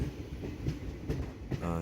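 A train running from Udupi to Chennai rumbles along the rails with steady low-frequency clatter and a couple of brief sharper knocks, fairly close and continuous throughout.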